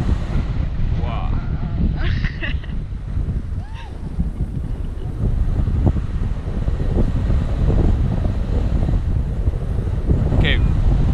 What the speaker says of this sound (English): wind is getting harder